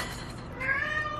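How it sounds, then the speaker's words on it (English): Hungry cats meow insistently at a birthday party where food is being served, a drawn-out nearby meow rising clearly over low room noise near the end. "You hear that? The cats are hungry."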